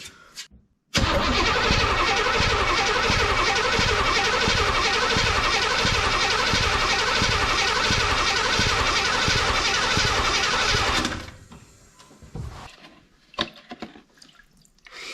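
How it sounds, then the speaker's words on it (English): A truck engine cranks over with its fuel line unhooked, a loud rhythmic starter churn of even pulses running for about ten seconds without catching, then stopping into near quiet with a few faint clanks. "I'm gonna crank the motor over, see if we can't get fresh fuel pumping up to the engine"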